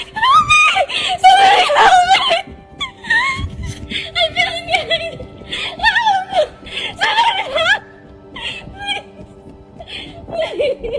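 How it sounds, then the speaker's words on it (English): A woman screams in repeated shrill bursts while running down a hotel hallway, her cries broken by gasps and breathy, laugh-like sounds, close and loud throughout. "sprinting down a hotel hallway at full speed, screaming like something is right behind her"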